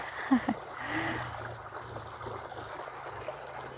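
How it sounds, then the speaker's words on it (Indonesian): Irrigation water flowing through rice fields in the Sumberjo area, a faint, steady outdoor rush and trickle with a couple of brief knocks near the start. "Tuh ada suara air mengalir, ini nyenengin banget ya."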